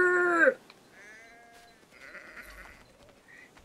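A sheep in the video game Assassin's Creed III gives one loud, close bleat at the start, followed by quieter game ambience and faint animal noises.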